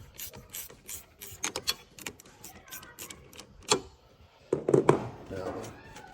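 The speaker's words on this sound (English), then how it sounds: "This other one's a 10, but you need a gear wrench to get into it." A gear wrench ratchets to loosen a 10 mm bolt, giving rapid bursts of close, crisp metallic clicking in short uneven strokes, with a louder cluster of clicks near the end.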